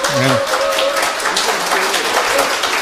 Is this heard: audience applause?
yes